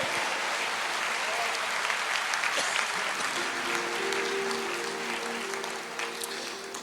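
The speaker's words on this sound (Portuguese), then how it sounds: "A igreja glorifica a Deus, aplauda mais." A church congregation applauds steadily during a worship service, a dense wash of clapping lasting throughout, with a sustained tone like an organ or keyboard entering midway beneath the applause.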